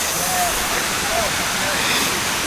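Rushing water at Pai Waterfall in the hills of northern Thailand: a dense, steady roar of falling water that fills the whole clip with no letup.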